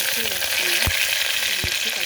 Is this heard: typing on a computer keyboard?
no